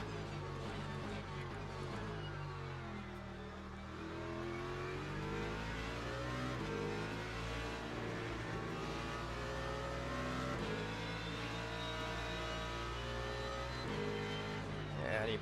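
A BMW race car engine in Le Mans Ultimate climbs and shifts through the gears, its pitch rising and falling repeatedly under ongoing commentary during a sim race, steady and fairly close.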